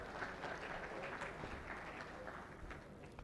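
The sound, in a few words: audience applause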